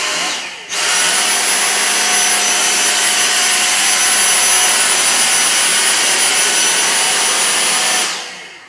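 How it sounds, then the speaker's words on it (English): A Dyson V6 cordless vacuum cleaner running on max mode, switching on abruptly and holding a loud, steady high-pitched whine with a constant motor tone for about seven seconds before winding down, close to the microphone with no talking. "I'm going to try again, but this time with the Dyson on max mode."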